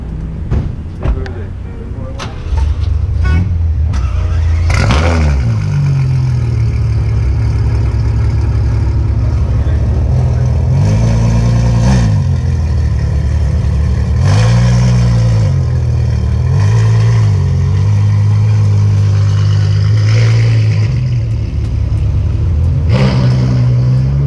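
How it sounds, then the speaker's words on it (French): A Ferrari F12 fitted with an aftermarket exhaust revs repeatedly at a Monaco cars-and-coffee meet, a loud close idle rising into several sharp surges, with people talking nearby. "L'échappement à Matrix qui fait plaisir sur la F12."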